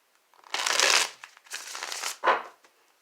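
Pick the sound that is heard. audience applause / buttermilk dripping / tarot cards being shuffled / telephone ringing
tarot cards being shuffled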